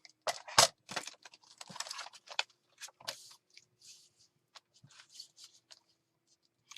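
Scissors snip through the paper of an over-deep pocket in an under-the-sea themed planner journal kit, a run of sharp crisp cuts and rustles, close and fairly quiet, with no talking.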